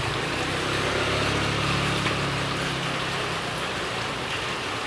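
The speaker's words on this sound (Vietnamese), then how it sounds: "giờ tự nhiên mưa lớn lại kìa" Heavy rain pours steadily on a flooded Ho Chi Minh City street, a dense, loud, continuous hiss of drops on water and surfaces, with a low engine-like rumble underneath for the first few seconds.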